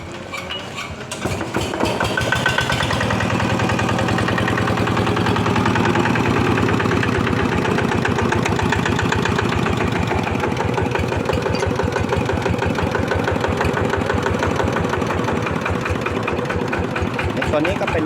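A motorcycle engine idles loudly and steadily up close, a rapid rhythmic chugging that stays even throughout, with a voice talking over it.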